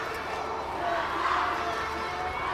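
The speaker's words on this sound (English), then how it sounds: "You can hear the crowd downstairs picking up." Spectators at a camogie All-Ireland intermediate club final between Clonduff and Gaillt shout and scream from a crowd downstairs, a steady dense roar that swells in the middle, heard from some distance.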